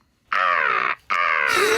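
A person imitates a seagull call with two long, loud, nasal squawks separated by a brief pause, close and alone.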